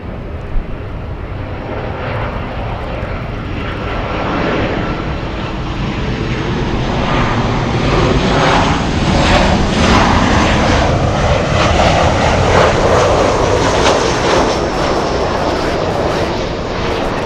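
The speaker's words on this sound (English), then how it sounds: "American 26 heavy, Dreamliner will depart the parallel," An American Airlines Boeing 787 Dreamliner departs LAX, its engines building into a loud, sustained roar that swells steadily over the run with no talk.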